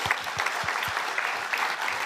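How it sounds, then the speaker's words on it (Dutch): Audience applause at the Beste Groninger Film 2019 awards ceremony, a dense steady clapping from a sizeable crowd heard continuously throughout, fairly close and even in loudness. "dus daar even een groot applaus voor."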